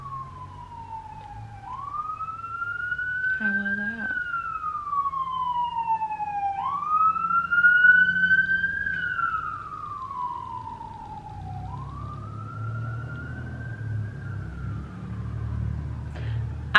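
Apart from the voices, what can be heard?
police sirens outside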